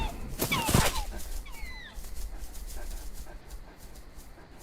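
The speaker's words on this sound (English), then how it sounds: "They sound like a panting dog now." Creatures in the DayZ video game make dog-like panting and whimpering sounds, with a louder burst of breathy, whiny calls early on that settles into softer, rapid breathing.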